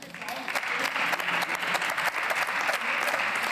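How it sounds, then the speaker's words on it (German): Members applaud in the Austrian Bundesrat chamber with a loud, full burst of clapping that stays strong throughout, while murmuring voices sit underneath. "Applaus."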